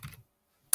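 Computer keyboard typing: a short flurry of close keystrokes, then a pause, then another burst of clicks.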